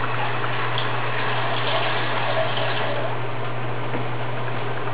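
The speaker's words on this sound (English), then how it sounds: "I'm also going to put about a cup of water in there." Water pours steadily into a cooking pot holding cabbage, a continuous gushing splash that runs evenly for several seconds over a low hum, with no talking.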